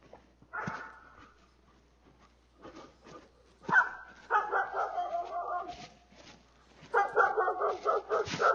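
Indoors, a dog barks in several separate bursts, mixing sharp yips and short whimpers with quieter gaps between the outbursts. The barking is moderately close, with no talk over it.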